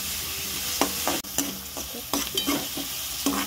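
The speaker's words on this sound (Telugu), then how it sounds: "ఇలా ఇవి లైట్గా వేగితే తీసుకోవచ్చుగా." Onions and green chillies fry lightly in oil for a chicken curry, a continuous close sizzle punctuated by frequent spatula scrapes and one sharp knock against the pan.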